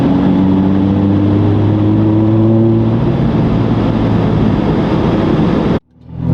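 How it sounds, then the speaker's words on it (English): A Lotus Evora 400 in race mode gives a loud, steady engine roar with a deep droning exhaust note that holds for several seconds, then cuts off abruptly near the end. "When you put this into race mode, listen to this thing."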